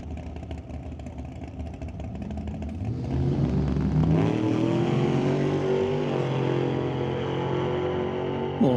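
A drag racing car makes a qualifying run at a Doorwarz XIII event, its engine building from a rumble into a loud, rising roar as it accelerates and then holds at a high pitch.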